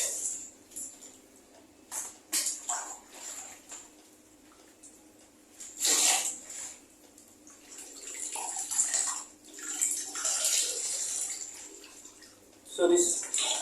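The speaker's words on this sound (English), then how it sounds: "So I have to rinse very well till it's very clean." Water from a tap rinsing a curly pixie wig, intermittent splashing and gushing bursts that come and go, with quieter dripping between them.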